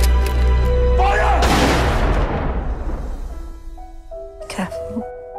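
A volley of gunfire from a wartime film trailer, a sharp loud burst of simultaneous shots followed by a long booming decay, then lighter cracks and echoing tail amid dramatic music.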